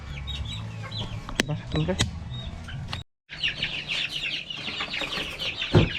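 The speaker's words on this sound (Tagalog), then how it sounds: "So ito yung mga 1 month old natin na mga sisiw." One-month-old chicks in a coop, cheeping and peeping continuously in a high busy chorus with a few louder calls, heard up close while someone speaks briefly over them.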